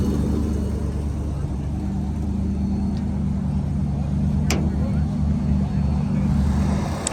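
A turbocharged drag racing truck in a small tire class idles and rolls up to the starting line, a steady loud engine drone with crowd and track ambience around it.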